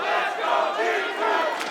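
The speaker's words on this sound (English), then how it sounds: "There's Empire chants in there as well." A large esports arena crowd at an Invitational grand final between G2 Esports and Team Empire chants in unison, a dense, loud, rhythmic roar of many voices filling the hall.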